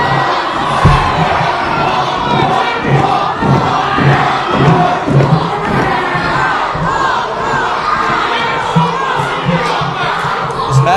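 A pro wrestling crowd shouts at wrestler Jimmy Flame in a rowdy, continuous din of many voices with rhythmic rises and rowdy jeers throughout.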